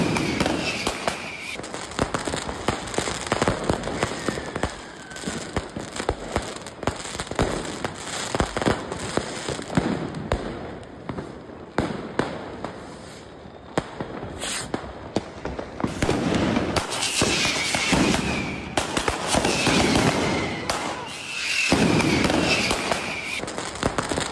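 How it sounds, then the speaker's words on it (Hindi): Fireworks fired at a bus during unrest in Berlin crackle and burst repeatedly, dense popping explosions with loud bangs throughout, some quieter stretches between louder volleys, with faint voices mixed in. "लोगों ने बस पर की आतिशबाजी।"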